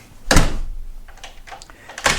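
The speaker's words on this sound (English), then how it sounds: "Shut the door up there." A door shuts with a loud thud near the start, followed by quieter knocks and rustling and a second louder bump at the end, heard alone without talk.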